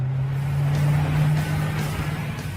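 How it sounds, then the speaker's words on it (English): Koenigsegg supercar's 5-litre supercharged V8 idling, heard from inside the cabin as a steady, deep bass drone with a slight swell midway. "When you fire up the engine, of course, the cabin fills with engine sound"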